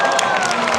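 An audience claps at a team qualifying competition, a brief burst of scattered applause over a murmuring crowd.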